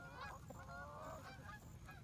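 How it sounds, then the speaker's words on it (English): Several geese honk repeatedly in an uneven chorus, moderately distant and passing by, over steady low outdoor rumble. "oh, there's some geese flying."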